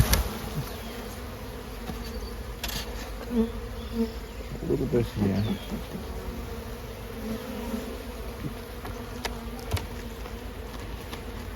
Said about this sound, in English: We've got a lot more bees now.